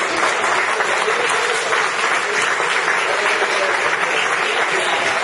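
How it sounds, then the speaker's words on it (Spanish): A loud, dense burst of applause fills the room at a Podemos political assembly in Jaén, Spain. The crowd claps steadily and evenly throughout, with no speech over it. "Creo que es merecido el aplauso"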